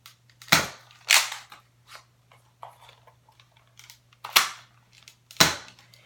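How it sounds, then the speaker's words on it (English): Nerf blaster firing Accu-Strike foam darts, four sharp snapping shots spaced irregularly with softer clicks and handling noises between, close and without talk. "it can shoot with Accu-Strike darts"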